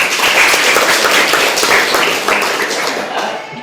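Dense, steady applause from a classroom of students, a continuous wash of many hands clapping throughout, fairly loud and close.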